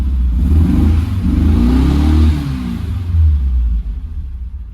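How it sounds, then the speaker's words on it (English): A VW engine is revved hard, rumbling loud and close with rising and falling revs, then eases back toward a steady idle. "But after that rev, he's idled down lovely"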